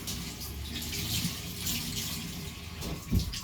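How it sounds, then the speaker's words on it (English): Warm tap water running steadily while produce is rinsed clean of seeds in a kitchen sink, a constant close rush with light splashing and a small knock near the end. "we will get them both washed into warm water. Get all the seeds off."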